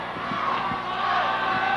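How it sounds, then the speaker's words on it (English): Wrestling fans in an arena crowd roar and cheer in a steady, dense wash of voices, with a few sharp shouts standing out. "The fans are cheering him on."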